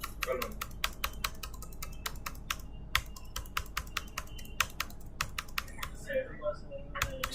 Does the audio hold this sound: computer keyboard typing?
yes